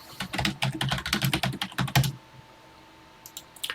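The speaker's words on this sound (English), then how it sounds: "let's get typing." Fingers typing a TI Basic program on a computer keyboard for the Classic99 TI-99 emulator, a quick close run of clacking keystrokes for about two seconds, then a pause and a few faint final taps.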